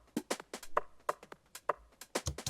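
Skippy, swung percussion loop for a tech house track with a very tight envelope, so each short, clipped hit stops dead; fairly quiet, with a faint low hum underneath.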